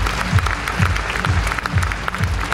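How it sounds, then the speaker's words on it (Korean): Audience applause for an award winner at a Korean fashion design competition ceremony, a steady wash of clapping with a soft rhythmic low thumping underneath. "축하의 박수 부탁드리겠습니다."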